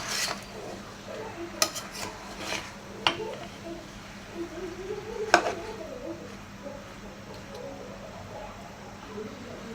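Beef cooked with jackfruit being stirred and sautéed in a pan, with intermittent metal utensil scrapes and clinks against the pot over a low, steady background, fairly quiet and close.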